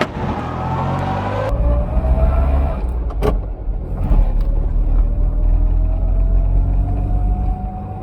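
Fiat 500 car with its engine running, heard from close by as a steady, loud low rumble with a rising tone, a brief mechanical click partway through, and no one speaking.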